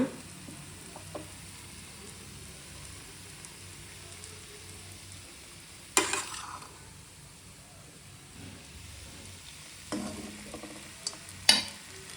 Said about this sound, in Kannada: ಈಗ ನೋಡಿ ಚೆನ್ನಾಗಿ ಫ್ರೈ ಆಗಿದೆ. ಈಗ ರೈಸ್ ಹಾಕ್ಕೊಂಬಿಡೋಣ.